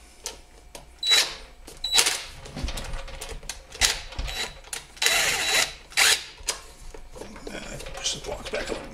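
Bolts being reinstalled on a Predator 212cc engine during a propane kit installation, heard as close metallic clicks, ratcheting and clinks in irregular bursts, with a person talking at times.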